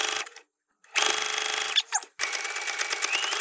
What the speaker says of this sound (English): Now we're going to sew a straight line kind of down there and then a zigzag on top